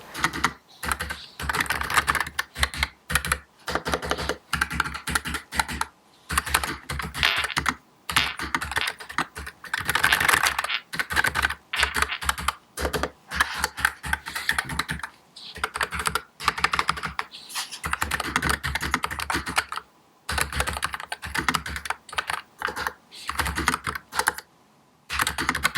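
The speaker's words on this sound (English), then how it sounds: "Let's check out the noise of the keyboard that the keys are making" Typing on a NuPhy Air 75 low-profile wireless mechanical keyboard: rapid, close clacking keystrokes in bursts with brief pauses between runs, no voices.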